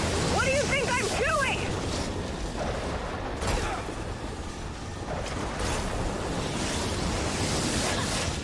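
Storm wind and crashing waves in the video game Gears 5 form a loud, continuous rushing roar with surging gusts, and a brief high chirping sound near the start.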